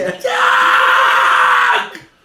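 A person imitates a screaming crowd with a single long, loud, sustained scream that holds steady for about a second and a half before cutting off.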